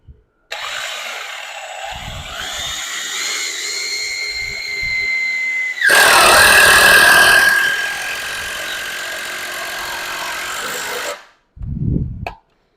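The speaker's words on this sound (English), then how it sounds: "For some reason I find putting these screws in super satisfying." A power drill drives screws into Kobalt 48-inch metal shelving, its motor whining steadily with rising pitch, then a louder burst of grinding as the screw seats, followed by a brief pause and a short final spin.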